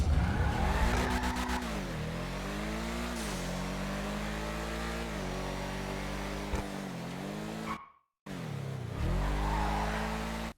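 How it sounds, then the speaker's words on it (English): The Sentinel GTS sports car in GTA Online roars through gear changes, engine pitch climbing and dropping with rev swings, tires squealing in skids, and a brief cut to silence before the engine resumes loud and close. "we now have gameplay showing how this car is going to drive and sound"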